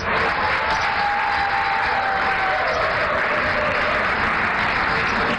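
A studio audience on a morning TV show claps in response to a call for louder applause, a dense, even wash of many hands that holds steady from start to finish with no voices on top.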